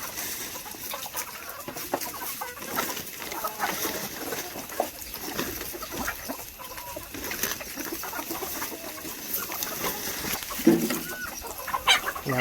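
Farmyard chickens clucking as they feed on grass and rice, steady soft clucks from several birds with scattered pecking and shuffling, close by and ongoing throughout.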